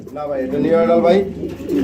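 A male and female pigeon pair cooing close by, soft throaty warbling calls that rise and fall over about two seconds, with a voice faintly mixed in.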